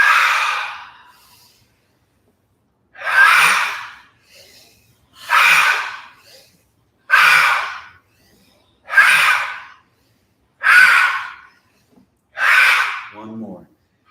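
Deep, loud breaths during a qigong-inspired yoga exercise: about seven strong, evenly spaced inhales and exhales, each lasting about a second, separated by brief quiet pauses, close and with no speech.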